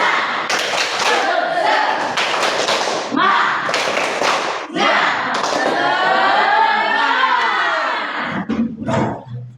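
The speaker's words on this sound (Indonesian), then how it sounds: "Tepuk tangan." A seventh-grade class joins in a burst of rhythmic group hand clapping, mixed with loud children's shouting and voices, ending with a few separate sharp claps.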